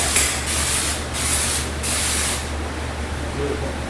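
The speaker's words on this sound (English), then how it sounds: "you don't have to be afraid of this lacquer, just put it on there. Put on nice heavy." A spray gun lays a heavy coat of white lacquer in loud, close hissing bursts. Three short passes are followed by a longer continuous spray.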